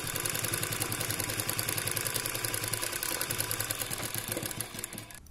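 Sewing machine running continuously as it stitches a pyjama seam, a close steady rapid mechanical chatter with an even rhythm that slows and fades at the very end, with no talking.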